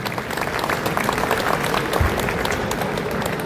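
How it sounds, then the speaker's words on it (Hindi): An audience at a public event applauds in a thick, continuous wash of clapping, fairly loud and steady throughout, with a low thump near the middle. "एक बार जीविका दीदी के नाम पर तालियां।"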